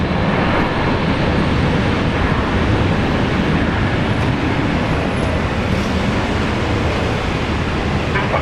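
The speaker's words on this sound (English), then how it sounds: "This flight coming in from Christchurch." Steady, loud broadband roar of an airliner arriving at Brisbane Airport on a flight from Christchurch, a continuous wash of jet noise without clear peaks, heard alone with no talk.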